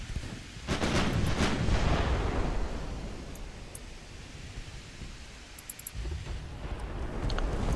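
Eleven-inch naval guns firing in the naval battle game Ultimate Admiral Dreadnoughts, booming shots and rumbling salvos sustained and loud, with sharp cracks layered over a continuous roar.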